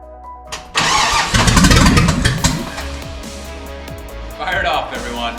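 A Chevy 350 V8 swapped into a vintage Toyota Land Cruiser FJ60, running with no exhaust, cranks and catches, then settles into a loud, rough idle before revving again near the end; voices are heard over it.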